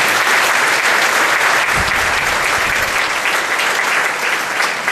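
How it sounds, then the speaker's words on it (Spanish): A church congregation claps steadily and loudly, a dense continuous wash of applause that fills the room without a break. "Aplaudan al Rey de la Gloria en esta mañana."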